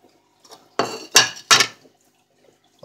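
Three quick clattering bursts as apple pieces tumble into a dish for a pineapple cake, each a short rattle against the bowl, close by with quiet pauses between.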